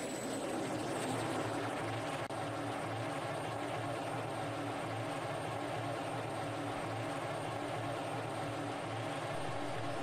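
An F-16 jet engine spools up during a cockpit startup in the Falcon BMS flight simulator, a steady, loud, whining drone with a thin high tone that holds for the whole stretch without talk.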